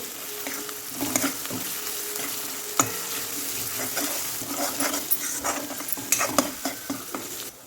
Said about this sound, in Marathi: आपण अद्रक लसणला पण याच्यासोबत मस्त फ्राय करून घेऊ